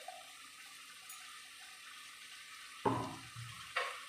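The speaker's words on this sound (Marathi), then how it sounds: "थोडं सूप ओतत चालायचंय" Soup poured in small splashes into a pot of chicken curry, two short bursts of liquid pouring up close after a quiet stretch of low background hiss.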